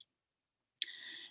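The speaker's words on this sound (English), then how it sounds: "And then you click generate." A single soft mouse click lands after a near-silent pause, followed by a brief faint electronic tone in an otherwise quiet room.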